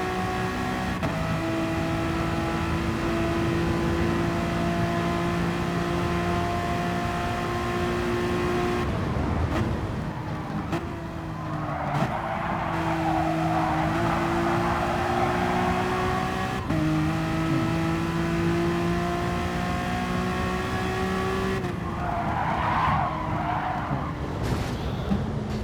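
Race cars in a video game engine race on the Blue Moon infield track, their engines droning steadily with pitch shifts as they change gear, broken by bursts of tire skidding and squealing, with no talk.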